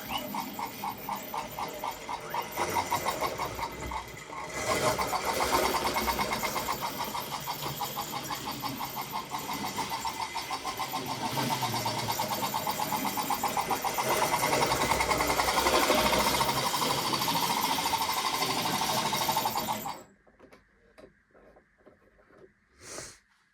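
A small model railway locomotive motor whirs steadily at high voltage, loud and buzzing for about twenty seconds, then cuts out to faint scattered clicks and rattles.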